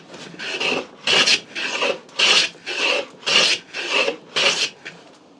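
A metal-cutting tool takes light shaving cuts in a steady back-and-forth rhythm, about nine rasping strokes separated by short pauses, close and moderately loud, with no voices.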